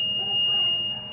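An overflow buzzer on an HHO generator sounds as a steady, piercing electronic tone that holds unbroken over a low hum of fans and machinery, with no one speaking.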